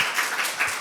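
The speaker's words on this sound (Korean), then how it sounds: "박수 한번 부탁드리겠습니다." A brief burst of audience applause at an Outerplane game user meetup, with a room full of clapping hands heard for under a second.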